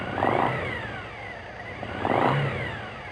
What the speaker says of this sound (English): Rev the engine slightly a couple of times and allow it to return to idle.